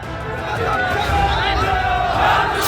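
A large crowd of thousands at a political show of strength roars and chants, a loud, dense mass of voices and shouting that swells continuously without pause.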